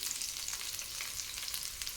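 Chopped onion and green chilli fry steadily in a pan for a veg wheat-noodle dish, giving a continuous soft crackling sizzle at moderate level with a slight bump near the end.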